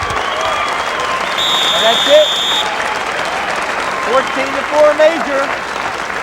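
A happy Paulsboro crowd at a high school wrestling match claps and cheers steadily throughout, with a buzzer sounding partway and an announcer's voice talking over the applause.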